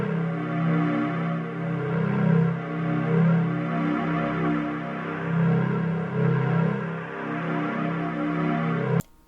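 A person's voice imitates the low hum of a stone structure opening, holding a steady, droning tone that rises and falls slightly in loudness for several seconds before cutting off abruptly.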